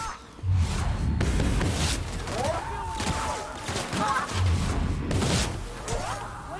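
Gunfire rings out in a chaotic burst of sharp shots and crashes, loud and close, with whooshing debris and voices mixed in among the blasts.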